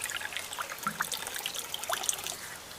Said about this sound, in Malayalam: ഞാൻ നിങ്ങൾക്ക് ഒഴിച്ചുതരാം വെള്ളം